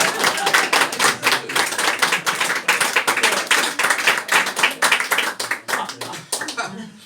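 An audience at a live card magic comedy show claps in a dense, loud round of applause that fades out at the end, with some talk mixed in.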